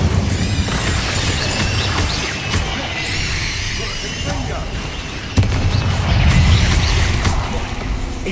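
Repeated Incendio fire spells in Hogwarts Legacy combat, heavy booming whooshes and crashing impacts in a continuous loud rumble, with a sharper blast near the end.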